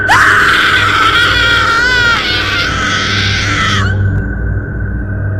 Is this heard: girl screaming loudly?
yes